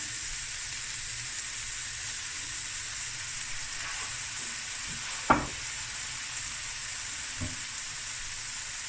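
Soy sauce sizzling as it hits a hot pan of stir-fried clam and crab rice, a steady, even hiss throughout with a brief sharp crackle near the middle.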